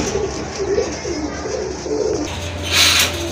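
A pair of racing pigeons coo in a soft, repeated low warble, close and steady, ending with a brighter rustle or flutter.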